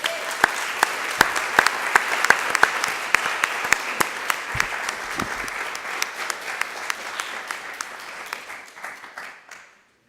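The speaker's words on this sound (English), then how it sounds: "Please join me in a round of applause." A college board of trustees meeting audience claps steadily for a retiring professor honored after 29 years of service, a dense round of applause with a few sharp single claps standing out, tapering off and fading to quiet near the end.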